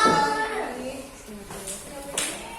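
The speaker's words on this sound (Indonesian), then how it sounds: "Tepuk 1, 2, 3" Schoolchildren in a classroom clap together on the teacher's count, a few quick claps close by followed by scattered taps and shuffling, with voices talking over them.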